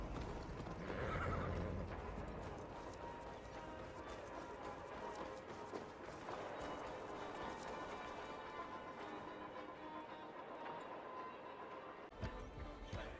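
A horse in Assassin's Creed Valhalla gallops with rapid clip-clopping hooves and gives a loud neigh near the start, the steady hoofbeats continuing under game ambience.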